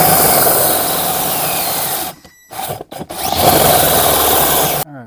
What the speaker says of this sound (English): Entering in almost 5 minutes to drill a hole.